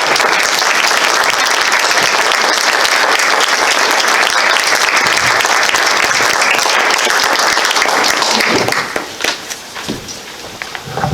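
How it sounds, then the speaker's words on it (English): Sustained audience applause at a historical society quilt program, loud and dense from a full room, holding steady before thinning out near the end. "Let's give her another round of applause."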